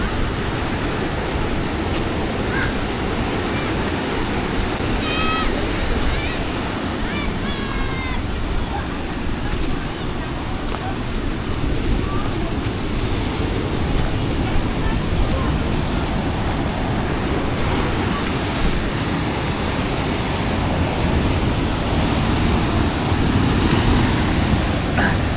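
Surf at a beach in Gunung Kidul rolls and crashes continuously in a dense, steady wash of noise, with faint voices and occasional high calls in the background.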